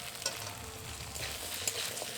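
Cut pumpkin and potato pieces fry in hot oil with ginger and garlic, making a continuous soft sizzle and crackle broken by a couple of quick stirring scrapes, with no talk.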